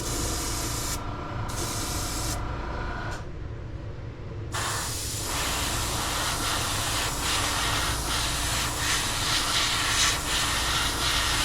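An airbrush sprays a first coat of green paint onto a fishing lure in a lemon lime pattern, a continuous close hiss with a few brief stop-and-start breaks early on, then steady spraying, no voices.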